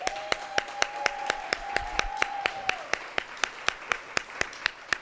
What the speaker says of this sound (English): a big round of applause for all of our fellows